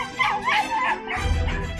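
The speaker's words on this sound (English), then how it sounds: "A small dog with a big bark is terrorising his feline housemate" A small dog barks and yips at close range in a home, a short burst of high excited barks with whiny edges, loud and without talking.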